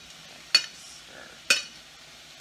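Spoon stirring chicken taco filling in a hot pan, with three crisp scrapes against the pan spaced about a second apart over a quiet sizzle, heard up close.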